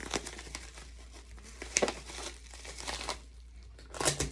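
Packing tape is pulled and pressed onto a small eBay shipping package, giving crinkly tearing and rustling bursts in quick irregular strokes, close and fairly loud with no talk.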